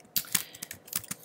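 Close, quick keystrokes on a computer keyboard while HTML code is typed, an irregular clatter of separate clicks with no talking.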